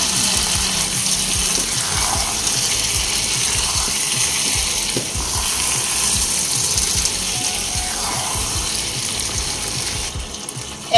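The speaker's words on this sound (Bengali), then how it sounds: "এবার আগেই যে মাংস ম্যারিনেশন করে রেখেছিলাম সব দিয়ে দেব। এবার উল্টো পাল্টে নেড়ে ছেড়ে দিয়ে কষিয়ে নিতে হবে।" Marinated mutton stir-fried in hot oil for Bengali-style mutton do pyaza, a steady broadband sizzle with scraping and stirring clatter running continuously throughout, no talking.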